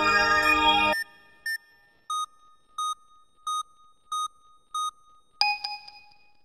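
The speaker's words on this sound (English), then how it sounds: "The fingerprint will then be scanned into the phone and sent to the crime computer" Fingerprint scanned into a cell phone in the Detective Barbie video game: a burst of music, then a string of six evenly spaced electronic beeps, finished by a bright chiming tone.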